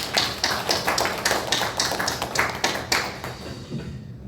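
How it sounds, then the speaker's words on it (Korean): Church congregation applauding a choir after a hymn during a Sunday worship service, a steady patter of many hands clapping with a regular rhythm, fading out toward the end. "우리가 격려의 박수도 함께 영광의 박수를 올려드리겠습니다"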